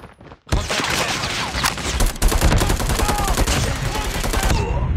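The Razorback gun fires in Call of Duty Mobile: a dense, rapid, close burst of automatic gunfire that runs continuously for several seconds after a brief quiet start, then cuts off abruptly.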